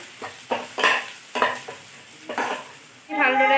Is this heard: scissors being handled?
no